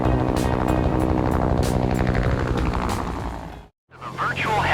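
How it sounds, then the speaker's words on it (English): A helicopter in a virtual reality helicopter tour game drones with a steady low rotor hum and engine whine, loud and close, under talk before cutting out briefly near the end. "The virtual helicopter tour."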